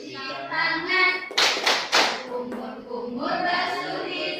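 Children clap along to a rhythmic wudu clapping song in a classroom teaching session, sharp hand claps in quick groups punctuating singing voices, close and loud between the sung lines.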